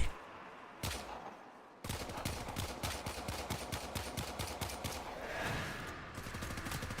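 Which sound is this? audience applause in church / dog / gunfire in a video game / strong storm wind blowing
gunfire in a video game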